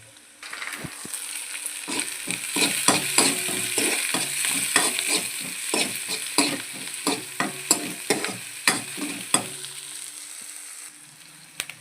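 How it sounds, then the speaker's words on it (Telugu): Onions frying in a pan for tomato egg curry, sizzling steadily for about twelve seconds while a spoon scrapes and stirs in a regular rhythm of sharp clacks, close and fairly loud, with no talking. "ఇలాగా గోల్డ్ కలర్ వచ్చేలాగా వేగనిద్దాం"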